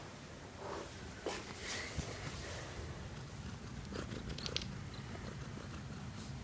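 A cat purrs softly and steadily at close range, a low continuous rumble with faint rustling and brief crinkly touches over it.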